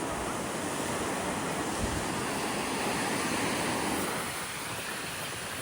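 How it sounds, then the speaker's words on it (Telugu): Sea waves washing in on Bapatla beach, a broad continuous roar of surf close by with wind buffeting the microphone, easing slightly toward the end. "అయ్యా నీళ్ళు వచ్చేసి"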